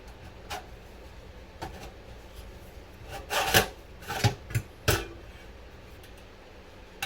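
Small screwdriver prying locking tabs loose inside a Threadripper server build, giving sparse scraping and clicking rasps that cluster into a few louder scrapes in the middle, close by and fairly quiet.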